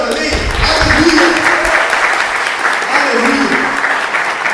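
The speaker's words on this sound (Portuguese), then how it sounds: "Você pode aplaudir o Senhor?" Congregation in a church service applauding, a loud, steady wash of clapping from many people, with voices audible underneath and brief low rumbles early on.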